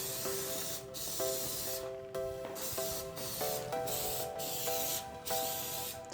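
Plasti Dip aerosol laying a thick final coat on interior car trim, close hissing bursts in several short passes with brief pauses, a faint tonal rattle or whine beneath; no one speaks.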